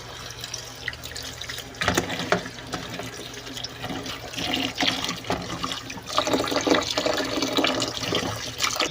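Rice being washed under running water, a steady close rush of tap water with splashing and sloshing surges as the grains are rinsed, fairly loud and without voices.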